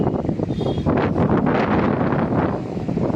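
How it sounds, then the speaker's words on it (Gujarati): Strong gusty wind during a thunderstorm in Lushala village buffets the microphone with loud, continuous rushing and rumbling that surges in waves, with no talk. "ફૂલ પવન છે।"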